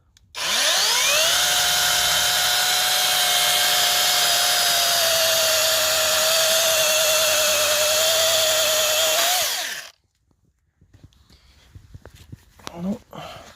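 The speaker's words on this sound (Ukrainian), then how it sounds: "пилка даже навіть не не почувствувала, як би це не відчула навантаження від горіха" A mini electric chainsaw, Stromo AAS40, cuts through walnut wood about 8-9 cm thick, with a loud, steady high-pitched motor whine lasting around nine seconds, then cutting out, followed by faint handling clatter.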